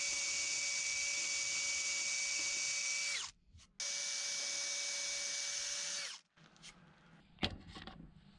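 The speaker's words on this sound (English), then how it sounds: "So now it's time to drill some holes in this." Power drill bores holes in wood in a barn workshop, two long steady high-pitched whines each ending as the bit finishes, followed by quieter handling knocks.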